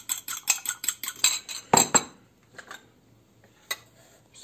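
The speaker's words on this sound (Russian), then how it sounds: "взбиваем" Egg beaten with a pinch of salt in a bowl, quick rhythmic clinking of the utensil against the bowl for about two seconds, then a few scattered taps and scrapes.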